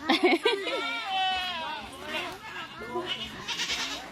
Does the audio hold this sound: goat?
yes